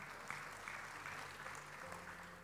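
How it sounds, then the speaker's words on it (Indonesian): Applause from a church congregation praising God during an evangelist's sermon, a steady low wash of clapping at moderate distance with no voices over it. "Mau tepuk tangan buat Tuhan?"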